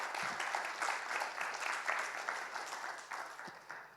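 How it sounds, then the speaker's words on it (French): Audience at a technical conference on water management in Corsica applauding two presenters, moderate clapping from a modest crowd, uneven and fading slightly toward the end. "On peut les applaudir."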